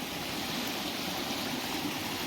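Rainwater running across a road after a night of heavy monsoon rain, a steady broadband rushing wash like a stream, continuous and fairly close with no voices.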